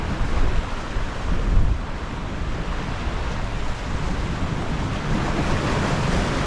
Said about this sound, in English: those waves crashing up against the rocks